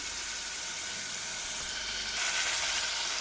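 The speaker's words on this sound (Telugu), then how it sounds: "కరివేపాకు వేసుకుంటున్నాము." Curry leaves hit a pan of frying tomatoes for a beans curry and set off a steady, close sizzle that swells louder partway through, with no talking.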